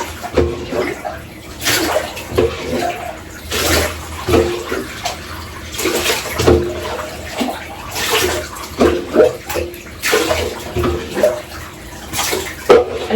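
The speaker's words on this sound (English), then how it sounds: "I have to rinse the soap out." Water is poured and splashed in a bathtub to rinse soap off a child, coming in irregular close sloshing bursts with a faint voice underneath.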